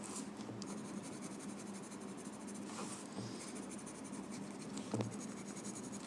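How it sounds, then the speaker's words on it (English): A pencil presses hard, laying thick graphite shading onto paper for a pattern drawing, giving a steady, faint, close scratchy rasp that runs without a break, with a few slightly stronger strokes along the way. "Going really hard on my pencil, adding some thick graphite."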